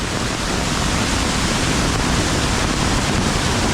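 Torrential monsoon rain in rural Konkan roars steadily and loudly up close, a thick uniform wash of water noise with no talking.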